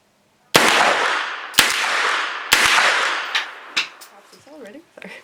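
Primary Weapons Systems PCC pistol firing full metal jacket rounds: three loud, sharp reports about a second apart, each with a long ringing tail, followed by smaller clatters and handling noises.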